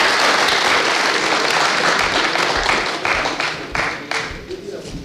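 A large crowd at a Punjabi star night gives loud, dense applause welcoming singers Harjeet Sandhu and Gurlez Akhtar; the clapping stays strong for several seconds, then thins and fades.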